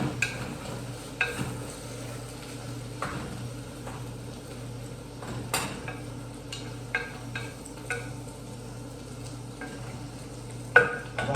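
Curry leaves go into a camel meat curry cooking in a pot, giving a soft, steady sizzle with occasional clinks and scrapes of a utensil against the metal, heard close with no talk.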